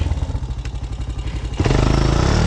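A Honda Recon ATV engine revs during a wheelie in a creek: a steady, close chugging drone that jumps suddenly louder and rougher partway through as the throttle opens.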